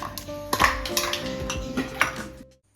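Metal utensils, bowls and cutlery clatter and clink repeatedly while being washed after baking, close and busy, with water running beneath before a sudden stop.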